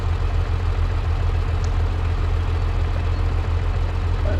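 A tractor engine idles in the Farming Simulator 22 video game, a steady low drone that holds constant and loud throughout with no talk over it.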